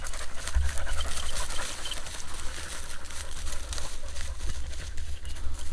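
Hunting dogs pant fast and rhythmically while searching for quail out in the field, a close, breathy, continuous sound with light rustling and faint bird calls behind it.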